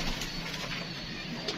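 A pigeon coos softly in a short, low burst, faint and close against a rough background hiss, with no other clear sounds.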